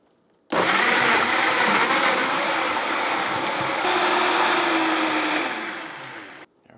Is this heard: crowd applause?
no